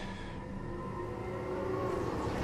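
Steady low rumble and hum of a tram moving in the Mass Effect Andromeda video game, constant and fairly close, with a faint tonal whine throughout and no talk.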